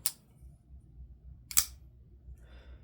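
A Kizer folding pocket knife flips open on its detent with two crisp, sharp clicks about a second and a half apart. It is close and loud against a quiet background.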